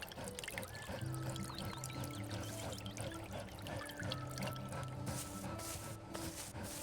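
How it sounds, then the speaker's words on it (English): Plants being watered in the video game Spiral, a soft continuous pour and trickle of water, quiet and close, with faint musical tones beneath. "Careful, dear. Too much water can be just as deadly as no water at all. Gently now."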